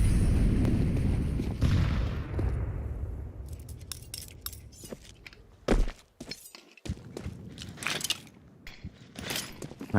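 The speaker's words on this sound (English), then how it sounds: "There goes the nades." Grenades burst in a Counter-Strike 2 esports match, a low rumbling boom fading out, then a scatter of sharp cracks and thuds as the round continues.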